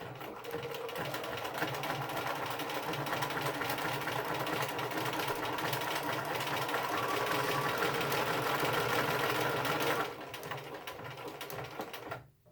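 A domestic sewing machine stitches a decorative leaf pattern with a close, rapid mechanical chatter that runs steadily, eases briefly near the end, then stops.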